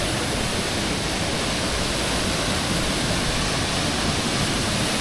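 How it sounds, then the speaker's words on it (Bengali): Nafakhum waterfall roars as a constant, loud, dense rush of falling water, near and steady with no breaks or voices. "ওই যে নাফাখুমের ঝর্ণা দেখুন"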